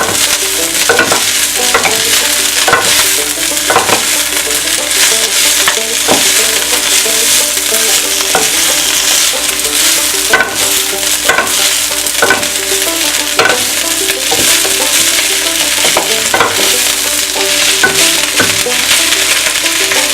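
Flank and skirt steak fries in a hot pan with broccoli, giving a loud, continuous sizzle close up, broken by frequent scraping and clatter as the meat is stirred and turned.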